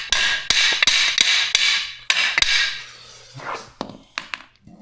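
Metal hammering on the body of a vintage cabover truck under restoration, a series of loud, sharp ringing blows in an uneven rhythm, with a few lighter taps near the end and no talk.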